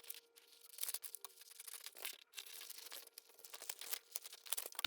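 Scissors snip through a paper sleeve pattern piece in quick, crisp, crinkling cuts, close and fairly quiet, with no voice over them.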